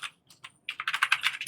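Quick clicks of typing on a computer keyboard, a few isolated keystrokes followed by a faster run of taps, close and clear with no talking.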